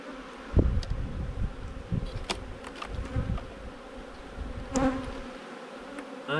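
Honey bees buzz steadily around an open hive during a queenless-colony inspection, a close, continuous drone with occasional louder passes of single insects near the microphone.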